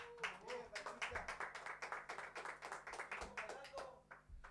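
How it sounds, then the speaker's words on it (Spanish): Quiet, rhythmic clapping from an audience at a dance concert with a live orchestra, even beats repeating steadily beneath a voice. "también un aplauso para él"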